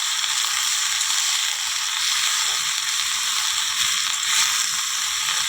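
Tender bottle gourd and chickpeas sautéed and turned in a hot pan with fried lentil dumplings, a steady bright sizzle with faint scraping as the pan is stirred, close and without talk.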